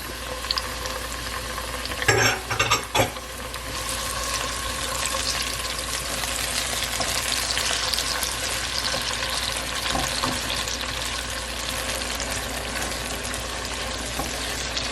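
Onions and tomatoes sauté in oil in a pot, giving a steady, moderate hiss and sizzle throughout, with a few brief clatters near the start.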